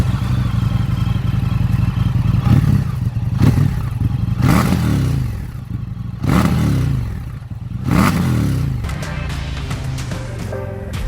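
Indian FTR 1200 motorcycle under way, its engine droning steadily with repeated rising revs and gear-change surges throughout, loud and close, with wind rush and no talking.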